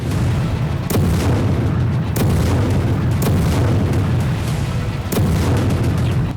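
Russian artillery and explosions strike Ukraine in a war zone, heard as loud, continuous rumbling with several sharp booms spaced about a second or two apart.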